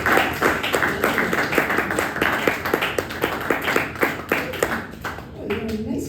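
An audience at a variety-show poetry reading applauds steadily with dense, close clapping for about five seconds before it thins out, while a voice speaks over the tail end.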